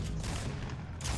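Dense gunfire in the Fortnite video game comes as a rapid, loud burst of overlapping shots and booms that fills the short moment, with no voice over it.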